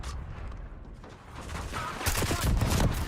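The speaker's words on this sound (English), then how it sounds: "this sniper doesn't fucking miss" Sniper rifle shots in a first-person shooter video game, several sharp gunfire bursts and mechanical clatter building toward the end amid busy game noise.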